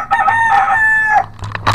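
A rooster lets out one loud crow close by, a long drawn-out call followed by a few short clucks.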